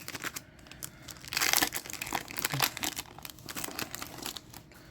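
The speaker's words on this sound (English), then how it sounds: "We'll open up this 2-card pack thing that I enjoy." Wrapper of a two-card trading card pack being torn open and crumpled, with crinkly plastic rustling close by and a sharper tearing burst partway through.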